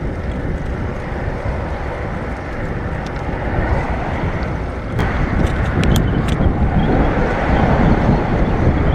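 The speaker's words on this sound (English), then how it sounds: "Oh, it's very windy," Strong wind buffets the microphone in a continuous loud roar while biking through a park in Lisbon, growing heavier in the second half, with no other sounds standing out.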